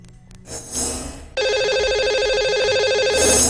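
A telephone rings out steadily and loudly as a studio line dials a caller on a live television astrology show, its trilling tone sustained after a brief muffled lead-in.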